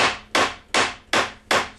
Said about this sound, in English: Now I might just grab my mallet and give that another little tap in.